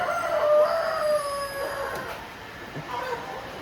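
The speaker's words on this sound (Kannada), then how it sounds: "ಅದು ಕೋಳಿ" A chicken calls and clucks nearby at a family home, a few drawn-out crowing notes over quiet background.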